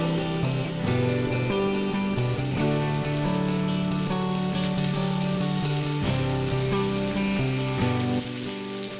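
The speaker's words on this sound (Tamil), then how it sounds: "தோசை தவாவில் எண்ணெய் ஊற்றி இதை வந்து நல்லா இப்போ ஃப்ரை பண்ணி எடுத்துக்கலாம்" Plantain slices fry in oil on a dosa tawa for a Chettinad-style roast, giving a steady, dense crackle and hiss that carries on without pause.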